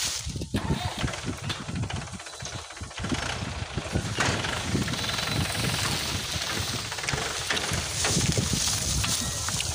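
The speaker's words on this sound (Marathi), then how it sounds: "मी चालू का ट्रॅक्टर?" A tractor engine drones steadily in a farm field during chickpea weeding, a loud, close, continuous rumble with no breaks and no speech.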